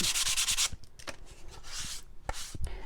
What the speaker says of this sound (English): I'm just kind of getting in there and sanding it